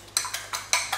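A whole egg being lightly beaten in a bowl, giving four or five quick, light clinks of a utensil against the dish in an even rhythm, close and clear with no talking.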